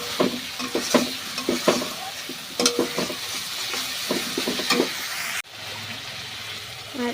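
Spiced ingredients with salt, sugar and turmeric get stirred and sautéed in a pan, rhythmic close scraping clatters over a steady sizzle, then a sudden cut to a quieter hissing fry.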